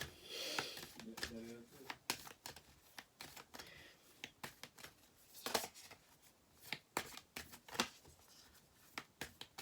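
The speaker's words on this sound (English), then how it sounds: "I'm just gonna shuffle again" Tarot cards being shuffled up close in quick riffling bursts, with soft clicks and rustles between them.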